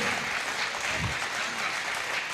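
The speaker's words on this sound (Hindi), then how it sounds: "एक बार तालियां बजाइए।" Continuous applause from an audience at a poetry event fills the space, dense and loud throughout, with little else heard.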